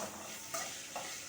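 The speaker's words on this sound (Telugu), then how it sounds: "ఇప్పుడు దీంట్లో కొంచెం పోపు వేస్తాను" Hot oil tempering sizzles in a pot of dal, a soft continuous frying hiss with two brief bursts as spices and stirring hit, quiet and close, no voices.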